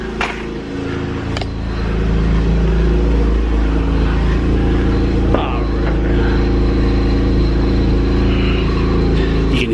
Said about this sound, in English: Kind of hear the exhaust rattle a little bit.